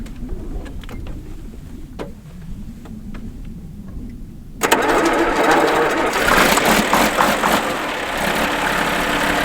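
A tractor engine cranks and catches partway through, jumping from a quiet outdoor scene with birds into a loud, steady, rough idle that keeps running close by.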